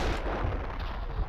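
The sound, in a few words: grenade explosion in the video game Max Payne 2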